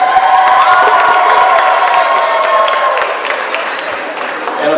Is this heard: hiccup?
no